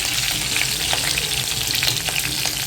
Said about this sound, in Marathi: छान अशी सोनेरी रंगावर आपले हिरवी मिरचीचे तुकडेही परतून घ्यायचेत आपल्याला